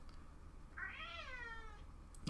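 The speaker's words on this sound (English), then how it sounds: "My cat's meowing." A cat gives one drawn-out meow, rising and then falling in pitch, fairly quiet against a low steady background hum.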